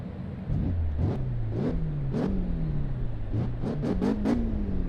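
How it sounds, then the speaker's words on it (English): Naturally aspirated car engine in the Assetto Corsa Evo racing game, revving repeatedly through rising and falling pitches with several sharp throttle blips toward the end, loud and steady with no talking. "Let's listen to how this car sounds."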